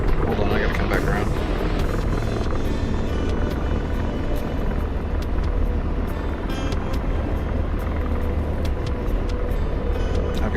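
Helicopter rotor thrum and turbine engine drone in a combat flight game, a steady loud wash running throughout with faint voices over it.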